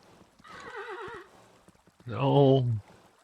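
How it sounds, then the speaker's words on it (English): A video game horse whinnies and snorts twice in quick succession, the second call louder and closer, with a low hum of ambience underneath. "That horse do a snort."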